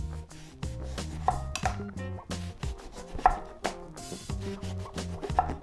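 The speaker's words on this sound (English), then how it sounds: "cut off the top of the eggplant, then cut off the bottom, then cut lengthwise into slices" A knife slices through eggplant on a cutting board, trimming the ends and cutting lengthwise, giving close, crisp chops and board knocks at an uneven pace, with a musical backing underneath.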